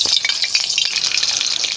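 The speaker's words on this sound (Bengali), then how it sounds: "আমি এখন আলুগুলো ভেজে নেব" Potatoes fry in hot oil in a kadai, giving a dense, bright, crackling sizzle that runs loud and unbroken, close up, with no talking.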